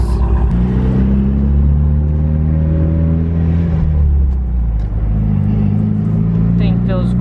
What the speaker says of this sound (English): Let's go take this for a drive around the block.